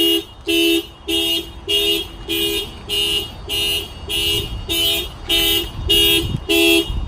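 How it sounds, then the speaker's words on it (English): Aftermarket alarm on a 2017 Toyota RAV4 blaring in a repeating cycle of loud electronic chirps, about a dozen evenly spaced bursts, close and unbroken. "I'm gonna go ahead and bang on the glass. The alarm will trigger."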